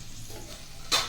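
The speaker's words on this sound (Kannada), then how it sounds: "ಈಗ ಚೆನ್ನಾಗಿ ಮಿಕ್ಸ್ ಮಾಡಿ" Chopped boiled eggs stir-fried in a pan for an egg fry, with a soft continuous sizzle and a brief louder scrape of stirring near the end.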